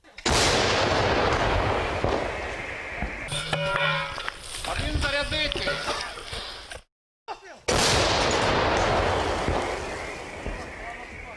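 A loud, sharp artillery blast opens, then a second heavy boom booms later, with talk and clattering activity in between.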